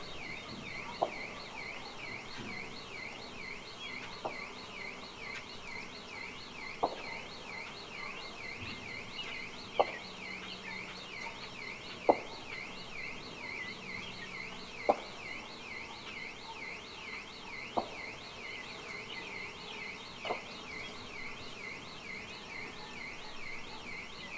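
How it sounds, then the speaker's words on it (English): A faint, continuous chorus of high, peeping spring peeper tree frogs rings in the distance at a farm, with a sharper chirp popping out every couple of seconds. "Now you can start to hear the spring peepers, which are tree frogs."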